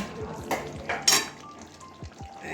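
Tangra fish curry with broad beans and lentil dumplings being tipped from a pan into a bowl, with a few close metallic scrapes and clinks of a spoon against the pan.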